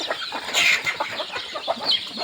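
Native country (desi) chickens clucking close by in short, irregular bursts, a few louder calls standing out over a soft farmyard background.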